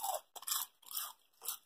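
A dried, air-fried chicken bone piece is crunched close up in four crisp bursts, each a sharp brittle crackle separated by short pauses, with no talking.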